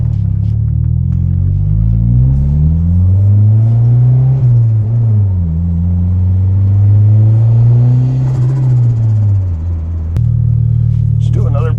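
A boosted Honda Civic engine running too rich idles loudly and close by with a deep, uneven rumble, its pitch drifting up and down as the revs wander.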